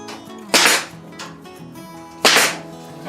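Two sharp, loud snaps about two seconds apart come from a staple gun driving half-inch staples while galvanized covers are attached to a beehive telescopic lid, close up and with no talking.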